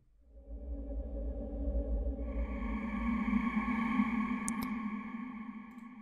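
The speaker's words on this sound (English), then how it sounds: "I'm going to use an Omnisphere patch for like the low bass background noise." Low, droning Omnisphere synth bass pad, swelling in and sustaining steadily, with a brighter harmonic layer joining partway through and a couple of brief high glints near the end; no talking.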